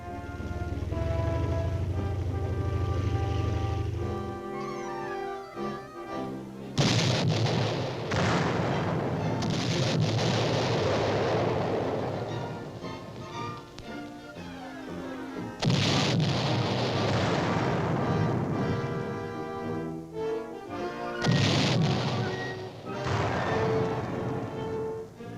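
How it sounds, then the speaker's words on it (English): Self-propelled artillery weapons fire several heavy booms, spaced a few seconds apart, each a loud burst that rolls away, set against a steady orchestral music bed. "There is now available a whole new family of self-propelled artillery weapons capable of destroying enemy troops and installations at tremendous range."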